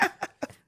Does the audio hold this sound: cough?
yes